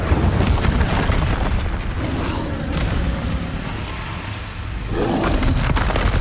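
Spell explosions from the Confringo and Bombarda curses in Hogwarts Legacy boom in loud rumbling bursts, with a dense roaring blast at the start, a slightly calmer stretch, then another heavy burst near the end.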